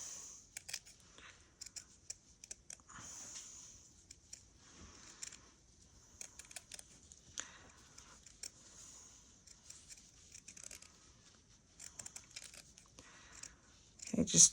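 Scissors trimming fabric for the back of a stitched bag, faint close snips and soft fabric rustles repeating irregularly through the stretch, with a louder handling noise at the very end.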